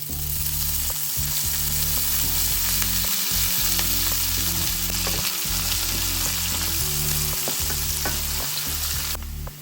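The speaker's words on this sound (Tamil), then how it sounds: "கொஞ்சம் எண்ணெய் விட்டு பொரிய விட போகிறோம்" A spice mixture with fennel and cumin frying in oil for mutton gravy, sizzling loudly and continuously up close with occasional stirring clatter throughout.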